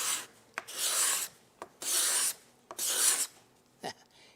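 A freshly sharpened cabinet card scraper, its burr acting as the cutting edge, is drawn across wood in three long, close, rasping strokes, each ending with a small knock as the tool is reset.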